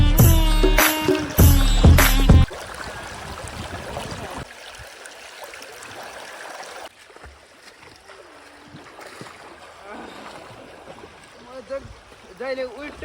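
A river stream flows in summer as a soft, continuous wash of water, faint and steady, after a few louder splashy bursts at the start, with occasional voices in the background.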